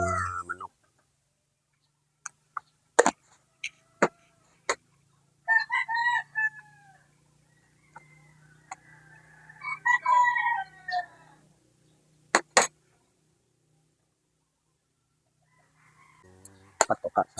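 Chickens cluck in short bursts with a rooster crow mixed in, alongside scattered sharp knocks and a low steady hum, fairly close.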